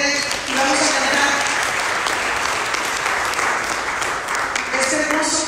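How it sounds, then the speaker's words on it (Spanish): Congregation clapping loudly during a live church worship service, continuous energetic applause throughout, with faint voices and musical tones beneath it. "Denle aplauso fuerte"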